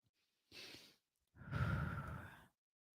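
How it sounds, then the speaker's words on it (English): A slow, deep breath during a guided new moon meditation: a short inhale, a pause, then a longer, fuller exhale that is breathy and close, with no talking. "So take a nice deep breath on those."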